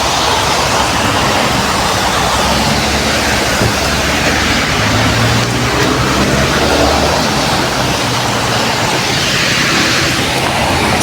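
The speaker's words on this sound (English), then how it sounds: "So today, full of rain." Steady heavy rain pours on an evening street, a dense, loud, unbroken hiss with a faint low rumble beneath it and no voices.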